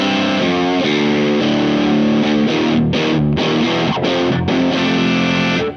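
An electric guitar played through a Bigfoot Drive overdrive pedal rings out in loud, distorted chords with a few brief pauses between strums, alone and up close.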